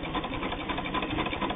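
A hand-cranked Singer 99 sewing machine stitching produces a continuous, even mechanical whir with a soft rhythmic clatter, close by and without speech.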